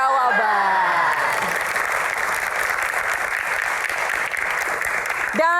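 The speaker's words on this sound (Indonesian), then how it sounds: "tepuk tangan untuk teman-teman audiens yang sudah ada di studio" A television studio audience applauds steadily in a continuous loud wash of clapping, with a host's voice briefly over the start and end.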